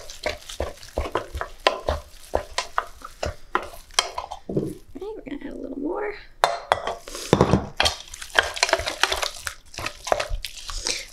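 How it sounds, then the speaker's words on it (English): Choux pastry dough stirred by hand in a pot makes repeated close scraping and thick, sticky slapping sounds in an uneven rhythm, with a few metallic clinks against the pan. "And so just keep stirring."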